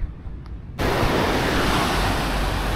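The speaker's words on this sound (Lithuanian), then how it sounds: "darosi žiauriai, ta prasme, banguota jūra" Waves on a rough sea surge in as a loud, steady wash of broadband noise after a quieter opening moment, continuous and near, mixed with wind.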